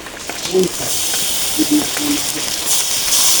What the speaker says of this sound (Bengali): অল্প একটু কষে নিব রসুনটা